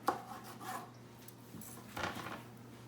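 A knife slices an onion on a cutting board for guacamole, with two or three short scraping, chopping strokes close by, separated by brief pauses.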